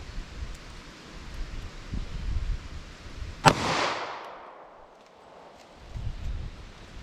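A single sharp .45 ACP Federal Train + Protect gunshot fired into a gel test block cracks out midway, trailing a rolling outdoor echo over steady wind noise.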